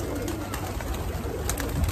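Pigeons coo restlessly at close range, eager for chickpeas being scattered at a rooftop water tank, a low steady murmur of cooing that runs continuously with no talk.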